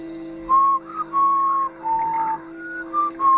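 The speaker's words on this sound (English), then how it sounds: "He was whistling a tune" Someone whistles a short, wavering tune alone, with several sustained notes separated by brief pauses, over a faint steady hum.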